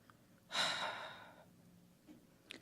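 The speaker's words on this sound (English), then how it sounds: "allowing the breath to flow gently out your nose or mouth" A slow, soft breath exhaled during a guided relaxation exercise, one long airy whoosh that gradually fades out, close and quiet, followed by faint small breathing noises.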